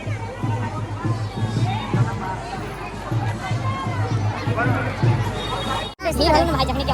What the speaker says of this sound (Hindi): अरे भाई अभी भी बहुत ज्यादा भीड़ है